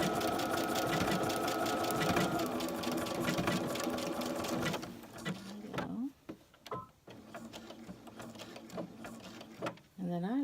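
A sewing machine runs a steady, loud stitching burst on a baby burp cloth for about five seconds, then stops; brief whirring starts and clicks follow as a person speaks over the quieter handling.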